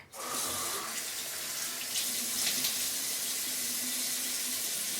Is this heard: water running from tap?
yes